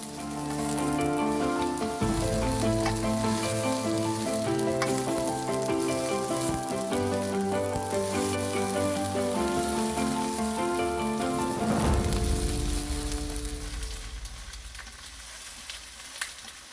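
Pak choi stalks frying with onion in a pan, a steady close sizzle under soft background music that carries through the whole stretch, with a brief stir-like rustle near the end.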